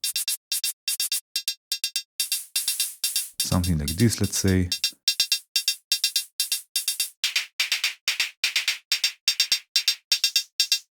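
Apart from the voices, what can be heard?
synthesized hi-hat with noise and metallic layers, Bitwig Grid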